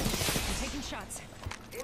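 Automatic gunfire bursts in a fast Apex Legends battle royale fight, dense crackling volleys up front with game effects and voices calling out over the shooting.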